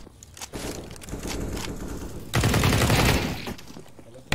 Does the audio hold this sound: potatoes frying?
no